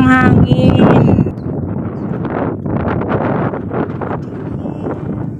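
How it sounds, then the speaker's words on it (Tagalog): Wind blows by a lakeside with floating kangkong nearby, a rough rushing noise that buffets the microphone, mixed with voices talking at the start. "Ayan ang hangin."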